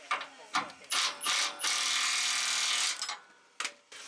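Power tool tightening the last rock slider bolt on a Toyota Tundra: short ratcheting bursts, then one long sustained whir lasting a couple of seconds, followed by a few brief final pulses, fairly close.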